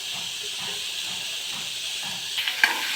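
Rava appam batter sizzling in a little oil in a pan: a soft, steady hiss of frying throughout, with a few brief crackles and small pops near the end.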